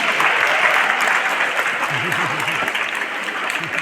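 Sustained crowd applause at a Kartik Purnima celebration held at a school in Odisha, a dense steady wash of clapping throughout, with a faint voice briefly audible underneath.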